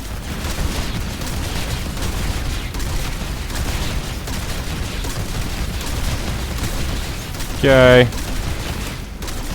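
Rapid automatic gunfire rattles continuously through a hallway in Black Ops 6 Zombies, dense and steady throughout, with a brief tonal game sound near the end and a short spoken word.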